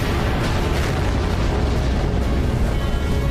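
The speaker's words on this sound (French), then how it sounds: "Il se produit une supernova, une violente explosion stellaire." Supernova explosion sound effect for a science documentary about a collapsing star, a loud, dense, continuous roaring rumble like a sustained blast, with no voices.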